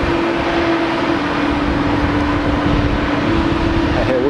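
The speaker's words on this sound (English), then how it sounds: "This is my local" Continuous loud aircraft engine roar at Geneva airport, a steady broadband rumble with a sustained whining tone running throughout, close and with no talk.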